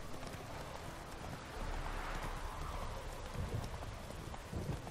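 Horse hooves clip-clop in a fast, steady gallop through The Witcher 3, soft and fairly distant beneath a rushing ambient wash.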